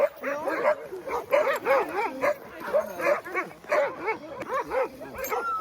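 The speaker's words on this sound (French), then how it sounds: "Les chiens sont surexcités alors qu'ils ont couru." A pack of excited sled dogs after a run, barking, yipping and whimpering in a near, continuous chorus of rising and falling whines with sharp barks throughout.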